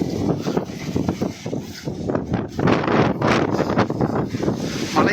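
Strong wind on Parvathamalai hill near Tiruvannamalai roars and gusts against the microphone without pause, loud and close, with no clear voices.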